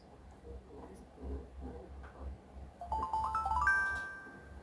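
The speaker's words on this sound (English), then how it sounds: "Under messages section, tap notification tone, and then select the desired tone you like to use." On a Samsung Galaxy S23 Ultra, a WhatsApp notification tone plays as a short rising run of bright chime notes after a few seconds of faint low rumbling.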